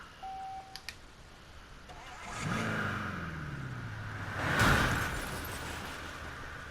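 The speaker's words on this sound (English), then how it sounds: "Rev it up and haul ass over here." A car engine revs up in a video game, rising in a smooth sweep to a peak before settling, heard alone after a few short electronic tones and beeps.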